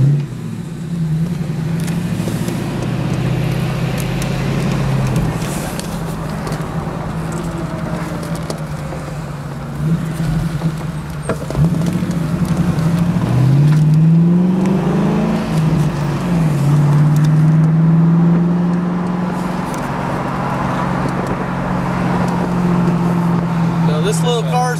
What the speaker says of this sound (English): I'm going to take you for a ride in a 2001 Ford Mustang Roush convertible